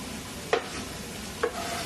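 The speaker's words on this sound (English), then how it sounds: "Onions going in, carrots going in." Onions and carrots cook in a pan as the base for a ragu, a soft continuous sizzle broken by two sharp spoon or spatula knocks against the pan, no voices.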